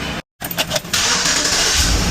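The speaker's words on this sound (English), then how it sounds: "Let's just go ahead and start the car and make sure the alternator is doing its job now." Engine of a Chevy Express van cranks after a brief silence, catching with a few uneven bursts and then settling into a steady, loud idle.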